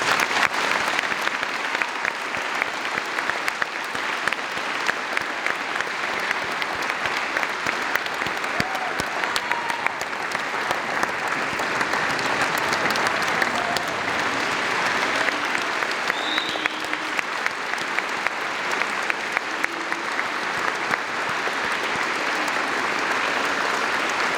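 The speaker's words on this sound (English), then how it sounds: "So a big round of applause for these guys" A crowd applauds veterans at a Veterans Day 2022 gathering, a long, even wash of many hands clapping that holds steady throughout, with a few scattered louder claps and no talk over it.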